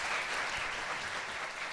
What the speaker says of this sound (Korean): 박수는 이제 그만 치는 걸로